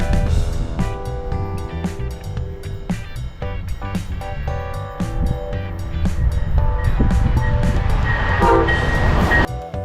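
An Amtrak Silver Meteor passenger train led by two ALC-42 Siemens Charger locomotives rolls past in Florida, a loud rumble and rattle with repeated horn blasts sounding throughout.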